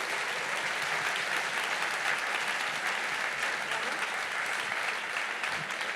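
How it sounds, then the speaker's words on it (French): A large crowd at an alumni awards ceremony applauds guests, a thick, even roar of many hands clapping that holds steady for several seconds without pause. "On peut vous applaudir,"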